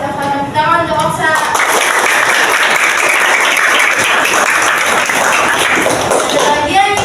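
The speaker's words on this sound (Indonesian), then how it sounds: "Tepuk tangan untuk Oksa." Elementary schoolchildren in a classroom break into loud, close applause that lasts several seconds, with voices before and after the clapping.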